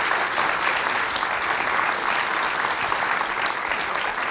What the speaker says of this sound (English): Let's give a round of applause to Rusty.